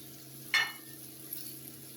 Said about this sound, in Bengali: এটা আমি ২-৩ মিনিট একটু ভাজা করব।